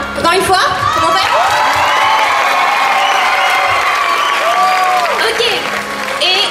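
A crowd at an annual dance show evening applauding loudly and continuously, with cheers, whoops and children's shouts rising over the clapping throughout.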